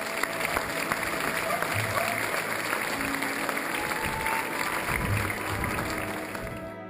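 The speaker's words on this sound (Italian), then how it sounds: "sulla piazza scatta l'applauso della folla" Crowd applause in the piazza in Orvieto as a religious procession for the Madonna Assunta leaves the church, broad sustained clapping from many people with some crowd voices, fading slightly at the end.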